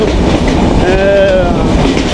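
Benapole Express train travelling from Faridpur toward Dhaka at night: a steady, loud rumble of rolling carriages with a brief high wheel squeal rising in the middle.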